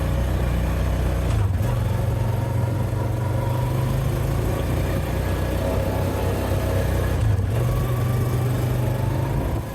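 The engine of a push-button-shift maple sap collection machine runs at a steady medium drone, with a couple of brief shifts in pitch as it changes gear near the start and again later, loud and close with no talking.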